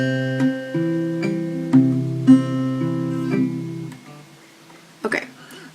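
Acoustic guitar picked slowly in a Travis-style fingerpicking pattern, alternating bass notes under ringing treble notes, with steady plucks for about four seconds before the strings fade out and a brief handling noise.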